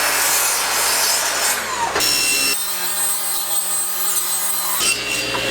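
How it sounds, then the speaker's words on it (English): A power saw rips wooden boards lengthwise in half, a loud, continuous whining cut close by that dips briefly in the middle, then resumes, with no talking. "I'm going to actually rip the boards in half, so it'll be about 2 3/4."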